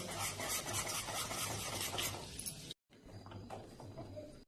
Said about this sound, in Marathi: आपल्याला कंटिन्यू हलवत राहायचे